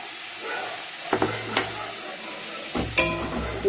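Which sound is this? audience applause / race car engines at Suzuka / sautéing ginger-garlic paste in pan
sautéing ginger-garlic paste in pan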